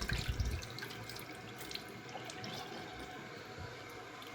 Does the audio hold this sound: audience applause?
no